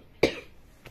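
A woman gives a single sharp cough, close and fairly loud, followed by a much fainter second cough a moment later.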